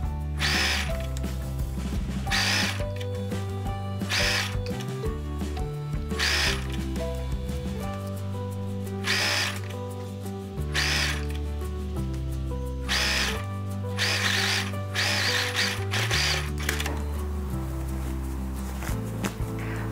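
A domestic sewing machine stitches elastic into the waistband of kids' summer pajamas, running in loud bursts of rapid mechanical chatter broken by short pauses, close and without talk.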